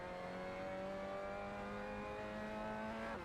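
A race car engine in the Assetto Corsa racing game holds a steady, droning high rev as the driver stays on the gas through a practice lap, close and continuous with a slight rise near the end.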